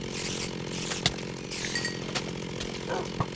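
A chainsaw runs in a Minecraft modpack video game, a buzzing rattly drone under a busy mix of game effects and clicks, with a few brief sharp hits breaking through.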